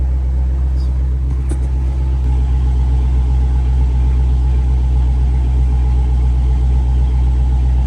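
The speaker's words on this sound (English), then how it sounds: "After a nice commercial break, the car is running." A revived Dodge Scat Pack's engine idles loudly and steadily, a constant low rumble close by with a few small clicks early on.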